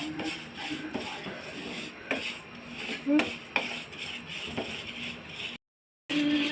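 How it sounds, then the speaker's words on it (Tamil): Moong dal and rice being stirred as they dry-roast in a pan, with repeated scraping and clinking of a metal spoon against the pan at an uneven pace, fairly close, with no talk. "சாப்பாடு அரிசி சேர்த்துட்டு இதையும் நல்லா கிண்டி விட்டுக்கோங்க அரிசியும் சேர்ந்து நல்லா வறுபடட்டும்"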